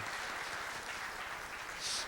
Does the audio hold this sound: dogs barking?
no